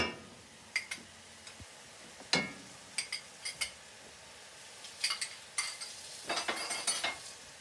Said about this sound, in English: We'll let this brown up a little bit,